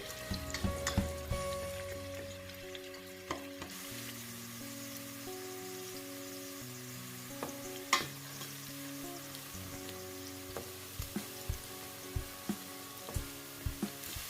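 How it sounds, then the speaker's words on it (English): Onions frying in a pan for efo riro, a steady sizzle with scattered clinks and scrapes as they are stirred, loud at the start and settling into a softer, even crackle. "Now I will add onions. Give it a quick stir."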